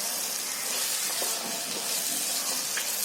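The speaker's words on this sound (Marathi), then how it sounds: "आता आपल्याला आहे ना जेवढं पाहिजे तेवढं पाणी टाकायचं आहे" Water poured into a pot of cooked mutton curry to make gravy, a steady hiss and splash with soft sizzling, close and continuous without talk.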